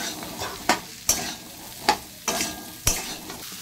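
Food sizzles steadily while frying in a pan, with a spoon scraping and stirring in five sharp strokes spaced roughly evenly, close up and with no voices.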